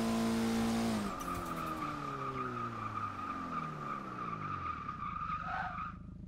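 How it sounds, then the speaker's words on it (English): Tires skid with locked brakes on a race car in the Forza racing video game: a sharp, sustained squeal over a falling engine note, fading as the car slides to a stop. "if you hold down the trigger too far, you're going to lock up your brakes and all you're going to do is slide"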